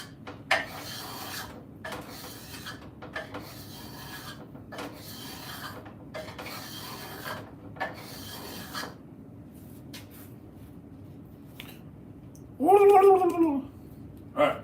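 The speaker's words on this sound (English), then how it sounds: "Relax to the sounds of white oak and purple heartwood being scraped" A scraper draws repeatedly across white oak and purple heartwood to a fine finish, making close, rhythmic rasping strokes with short pauses, followed by a brief cat meow near the end.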